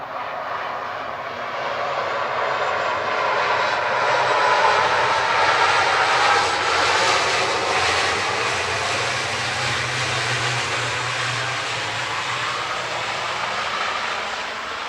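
An Aer Lingus Regional airliner on the Belfast flight roars past at Manchester Airport, its engine noise loud and close, swelling to a peak midway and then easing slowly, with no voices over it.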